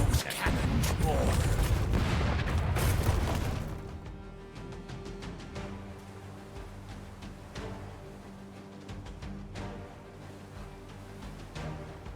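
Heavy booming cannon blasts in the video game Rogue Waters dominate the opening seconds, followed by scattered crackling impacts and softer bursts under a steady game soundscape.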